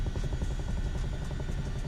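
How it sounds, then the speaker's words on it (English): Chinook tandem-rotor helicopter rolling along the ground on its wheels, a steady loud rotor and turbine drone with rapid regular blade thumping, heard close and continuous with no speech. "I don't know if I've actually like wheel taxied a Chinook before"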